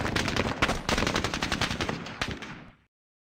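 Rapid automatic gunfire from the war video game Squad Battles: Eagles Strike, a loud sustained burst of machine-gun shots lasting a few seconds before cutting off abruptly.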